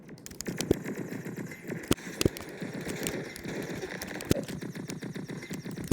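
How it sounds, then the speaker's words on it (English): Black hole gun firing down a corridor in the Roblox game Flag Wars: fast, steady rapid-fire pulses with a few sharper, louder cracks mixed in, continuous and fairly close. "you also want to use the black hole gun down long corridors, like this"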